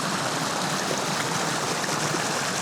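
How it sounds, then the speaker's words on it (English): A small stream flows under a road beside a larger creek, running higher than usual, producing a steady, dense rushing and gurgling wash with no pauses. "There's actually another little stream on the side of it right here."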